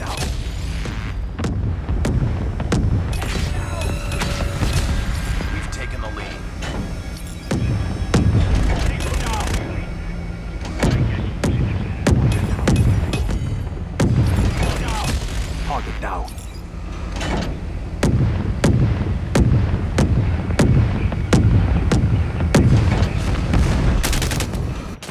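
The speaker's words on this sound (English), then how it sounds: "Friendly airstrike incoming." Call of Duty Mobile airstrike explosions on the Shipment map: dense, loud booms mixed with rapid gunfire and mechanical clatter, continuing almost without pause throughout.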